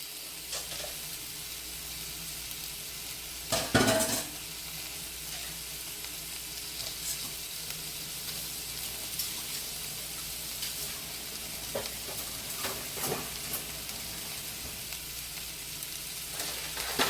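Lots of bacon frying in a cast iron skillet, a steady broad sizzle and crackle throughout, broken by a few louder scraping stirs, with no voices over it.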